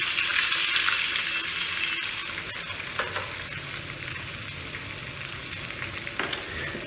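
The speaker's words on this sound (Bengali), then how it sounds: "মাছ ভাজা হতে বলে রাখি" Pieces of katla fish fry in hot oil in a home kitchen, giving a steady, close sizzle with crackling spatter and a few sharper pops, and no talking.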